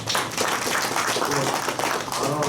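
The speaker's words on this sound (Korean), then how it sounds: "박수 부탁드리겠습니다" Audience applause after a lecture at an internal-medicine ultrasound workshop in Daegu, a dense, steady wash of many hands clapping at close range that fills the whole stretch.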